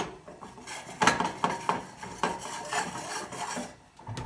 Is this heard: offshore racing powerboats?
no